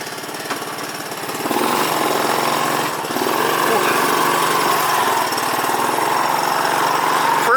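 A Honda ATC three-wheeler engine runs close by, a steady buzzing drone that steps up louder after a couple of seconds and stays even, with a voice briefly heard alongside.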